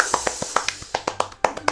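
A small group claps steadily, one sharp hand clap after another, close up and moderately loud. No one talks over it, and the clapping comes during a Thai day-trading stream.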